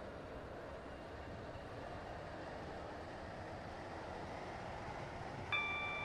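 A Class 331 electric train runs steadily along the rails with a constant broadband rumble at even loudness and a brief high tone near the end; no one speaks.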